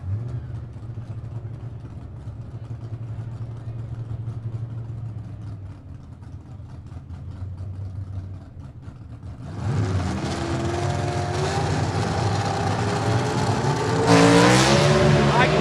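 Southeast Gassers Association B/Gas drag race cars idle with a low rumble, then launch down the strip at South Georgia Motorsports Park with a loud, rising engine roar that swells further near the end, while a commentator talks over it.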